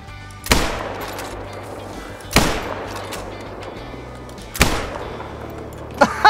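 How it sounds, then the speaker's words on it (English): Three heavy gunshots from a hunting video game, each a sharp loud crack with a trailing echo, spaced about two seconds apart over a low steady background rumble. "I'm just gonna keep shooting."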